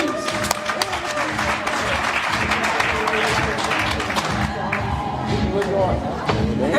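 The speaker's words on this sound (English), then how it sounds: "One more round of applause for Salome," Audience applause at a graduation ceremony: steady clapping from a crowd with a murmur of voices and some talking mixed in, fairly loud and continuous throughout.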